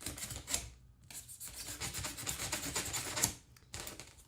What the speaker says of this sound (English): I don't want to like finish sawing on that